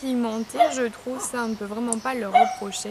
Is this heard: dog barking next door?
yes